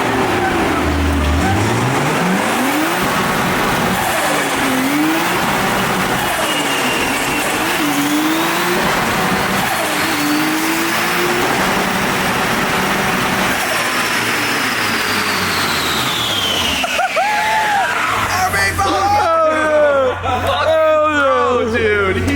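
A built Nissan RB26 engine revs hard on a dyno, climbing and dropping through gear pulls in loud continuous sweeps, with a shift and tire roar near the end; voices are faintly present under the noise.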